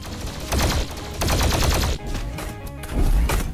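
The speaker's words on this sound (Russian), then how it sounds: "плазменная пушка из Дума." Rapid bursts of loud, buzzing fire from a Doom-style plasma gun in Garry's Mod, in several rattling volleys separated by brief gaps.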